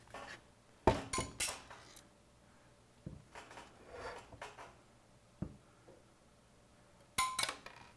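Metal bolts fall off a fuel mechanism assembly as it is flipped on its side, making several sharp metallic clinks and rattles in separate bursts, with quiet pauses between them.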